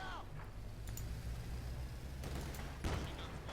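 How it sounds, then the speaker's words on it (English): Mortars firing in the video game Company of Heroes 2, a few distant thumps and blasts amid a continuous rumbling battlefield din, with faint voice-like sounds behind. "Mortars are firing."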